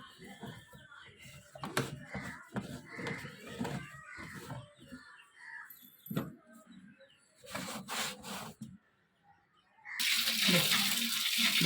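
An air cooler pad is washed and rubbed in water, giving wet scrubbing and splashing in uneven bursts, with a steady running-water rush near the end.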